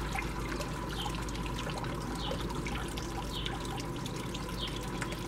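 Water trickles steadily into a rock-lined pond bog filter, a continuous close wash of flowing water with no breaks, filling the bed to just below the rock surface.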